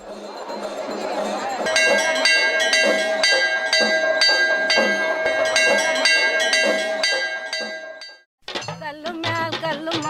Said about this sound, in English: the rhythm of the singing of the temple bells from the sanctum sanctorum